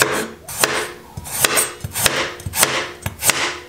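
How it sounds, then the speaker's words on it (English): A knife slices radishes thinly on a cutting board, a close run of about eight crisp, evenly spaced chops with short scraping between strokes, no talking. "I'm gonna slice a couple of radishes quite thinly"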